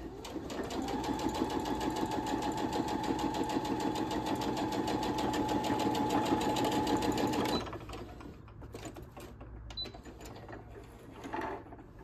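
A sewing machine running a centred straight stitch with a twin needle hums in a fast, even mechanical rhythm for about seven and a half seconds, then stops, leaving quiet handling noises.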